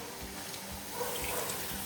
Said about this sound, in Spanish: Según la carne se va cocinando, le voy echando su poquito de agua